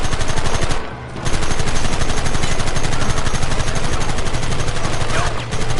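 Rapid machine gun fire rattles continuously in a Red Dead Redemption shootout, loud and dense, with one brief pause early on before the bursts resume.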